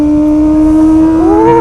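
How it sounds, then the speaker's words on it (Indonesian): Motorcycle exhaust at speed, ridden fairly fast on the road out of Purwokerto toward Purbalingga: a steady loud engine drone that rises in pitch near the end as the throttle opens, heard close with no talk. "sambil mendengarkan knalpot"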